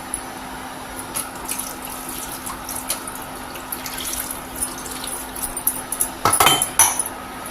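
Water runs and splashes into a pot of rice and lentils with drumstick leaves for a few seconds, growing louder near the end, with faint clinks of utensils under a steady background hum.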